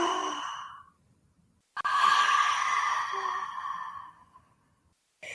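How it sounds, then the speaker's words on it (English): A person draws in a deep, slow breath and lets it out in a long, audible exhale, close and soft, followed by silence, in a calm relaxation setting. "you're going to take a deep breath in"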